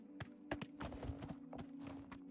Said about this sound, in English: Famous first-person horse riding